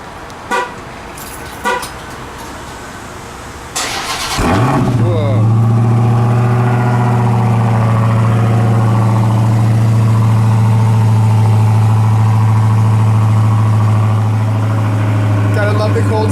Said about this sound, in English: Love the cold start.